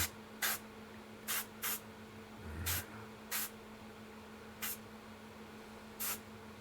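Black spray paint misted onto a sculpture in short, sharp hissing bursts, seven or so spaced irregularly, fairly close over a quiet background hum.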